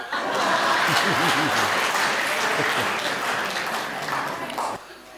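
Audience applause at a Hindi kavi sammelan poetry recital, a loud sustained burst of clapping from a crowd with some laughter and a voice speaking over it, fading near the end.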